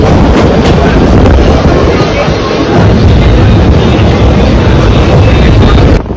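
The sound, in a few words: Bandra Vapi Express train departing Vaitarna station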